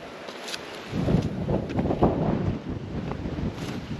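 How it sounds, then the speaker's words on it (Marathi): Strong wind buffets the microphone atop a hilltop fort's summit citadel, rumbling in heavy gusts that swell after the first second and stay loud and unsteady throughout. "वारं प्रचंड आहे त्यामुळं आवाज येत नसेल"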